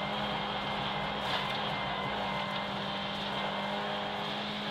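A rally car driven flat out in fifth gear on a hilltop stage, its engine holding a steady loud drone from inside the cabin, with no braking or gear changes.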